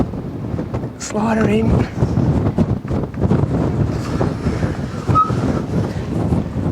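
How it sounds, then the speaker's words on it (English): Gusty wind buffets the microphone at a cliff edge outdoors, a steady loud rumble with rising surges, under close talk from a man throughout. "that wind is blowing"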